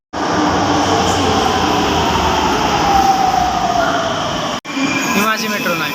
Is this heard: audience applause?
no